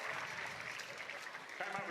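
Brief applause from spectators at a professional pickleball match at the PPA Finals, a quick, moderately loud burst of clapping lasting under two seconds.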